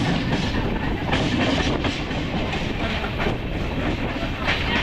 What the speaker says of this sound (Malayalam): നമ്മുടെ ഈ ട്രെയിൻ ചെങ്കൽപ്പേട്ട് റെയിൽവേ സ്റ്റേഷനിൽ എത്തിക്കൊണ്ടിരിക്കുകയാണ്